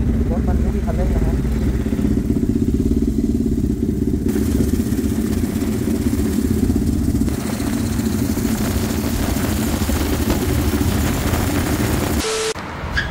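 A Honda NT1100 motorcycle coasts with the throttle closed, producing a loud, continuous low engine rumble and mechanical clatter with wind noise; someone talks over it throughout.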